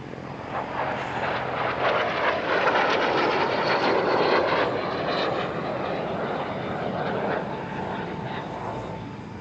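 L-39 jets of the Fly and Fun display team run in at an airshow near Paris, a steady, distant engine roar that swells slightly toward the middle and then holds as the aircraft pass.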